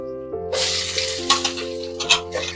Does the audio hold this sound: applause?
no